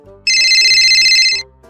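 A telephone rings once in a single bright, warbling electronic burst of about a second, loud and close, framed by quieter background tones before and after.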